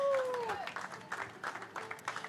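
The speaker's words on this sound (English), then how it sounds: "Give a round of applause for yourselves for being out here" An audience at the Pickleball World Series in Dubai applauds, a brief burst of clapping that opens with a faint electronic tone, with the claps thinning into scattered, uneven bursts.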